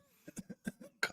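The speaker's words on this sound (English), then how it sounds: "Cough." A soft cough comes as a quick series of short, muffled bursts ending in one sharper, louder hack, heard alone and close by.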